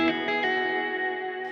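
A Chapman Stick rings out through effects pedals, a few tapped notes at the start blooming into a sustained, shimmering chorus-and-reverb-laden chord that holds and slowly fades.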